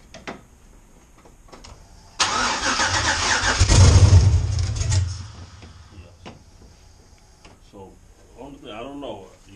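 An LS-swapped car engine cranks on its first start attempt, with a loud, steady starter churn lasting about three seconds that fails to catch, then quiet, and people talk briefly near the end.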